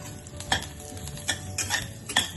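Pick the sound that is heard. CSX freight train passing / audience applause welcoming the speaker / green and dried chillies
green and dried chillies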